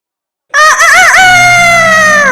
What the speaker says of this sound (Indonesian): Anehnya, ayam itu bisa berkokok sambil berbicara.